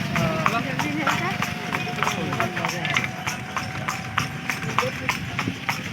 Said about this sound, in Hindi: घोड़ा गाड़ी